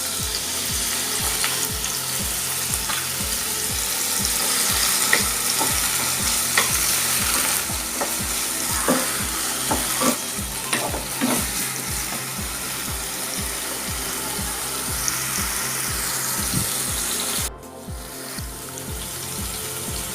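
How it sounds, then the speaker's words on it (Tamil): Pineapple pieces sautéing in ghee in a pan for a pineapple kesari sweet, with steady sizzling and repeated scraping, stirring strokes of a spoon throughout, close and continuous with no talking. "இப்போ இதில் தான் நம்ம இந்த அன்னாச்சி பழத்தை போட்டு இப்போ வதக்க போகிறோம்."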